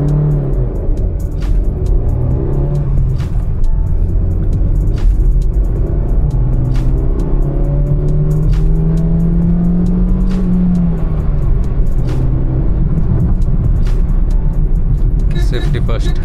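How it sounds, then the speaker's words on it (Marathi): A 12-year-old Honda City running on petrol launches and accelerates. Its loud engine note rises steadily under constant road and wind roar while people talk inside the car. "तर आपण लॉन्च करून बघूया गाडी आता."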